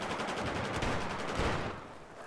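Rapid gunfire from the Mantar weapon firing slug rounds in a video game, a dense run of overlapping shots at moderate volume that thins out near the end.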